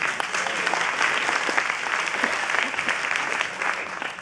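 A crowd at a national bar council assembly bursts into loud, sustained applause, a dense and continuous wash of clapping heard up close.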